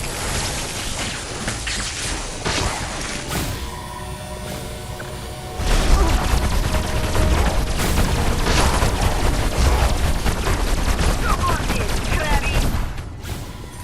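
Rapid-fire gunfire in the video game Destroy All Humans 2, a dense crackling barrage of shots and booms that swells louder in the second half, with a voice shouting over it.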